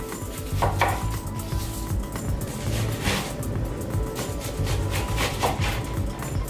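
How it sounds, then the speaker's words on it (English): A knife chops onions for fresh garden salsa on a board in quick, steady knocks, loud and close, continuing without a break. "So right now I'm going to start on cutting up my onions."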